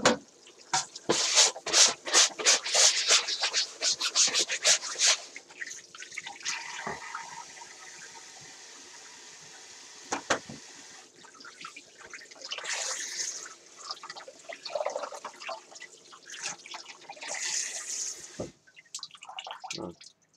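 Water runs from a tap as a fish and a cutting board are rinsed for making dried inada. A close, splashing stream with drips and rubbing starts loud, then eases into quieter, intermittent flows and splashes.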